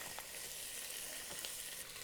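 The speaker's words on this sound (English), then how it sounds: "Now drop your skin in. Ooh, I love the sizzle." Chicken skin sizzles in olive oil at the bottom of a pot, a bright, dense crackle that runs steadily and close with small pops throughout, no talk.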